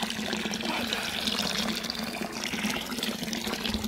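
Drinking water pours steadily from a mountain fountain, a close, continuous splashing rush that lasts throughout with no pauses.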